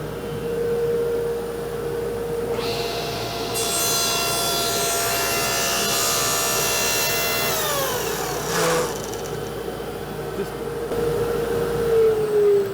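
A power saw cuts a PVC workpiece at a shop drill station: a steady motor whine with a grinding, rasping cut building for several seconds, then the saw winding down to a lower hum.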